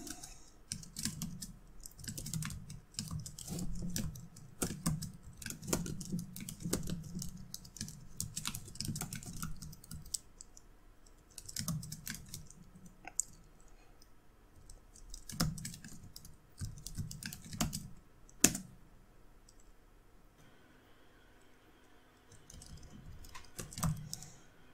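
Code being typed on a computer keyboard, bursts of quick close key clicks with short pauses between them, fairly quiet and without any voices.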